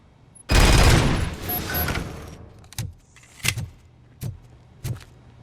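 Gunfire at a fuse box in the video game RoboCop: Rogue City, a loud burst of sustained shooting followed by several sharp, separate impact bangs and clanks.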